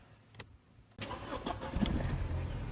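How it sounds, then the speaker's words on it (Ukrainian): An Audi A6 C6 2.0 TFSI engine cranks briefly and catches, then settles into a steady idle nearby, fairly loud after a quiet start. "автомобіль у нас завівся"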